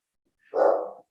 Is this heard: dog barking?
yes